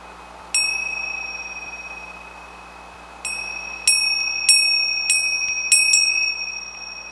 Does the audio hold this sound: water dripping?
no